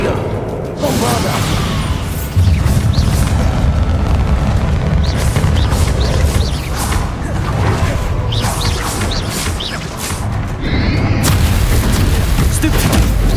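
A dense, loud spell explosion in the Hogwarts Legacy video game, a Bombarda blast with booming low rumble and crashing debris that roars on for several seconds amid continuous battle noise and game speech.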